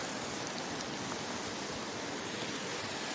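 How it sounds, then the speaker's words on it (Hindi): Floodwater after a cloudburst rushing across a road near Shalkhar village, a dense, steady roar of moving water filling the whole clip at a constant level, with no speech. "यहाँ रोड में देखिए पानी आ गया"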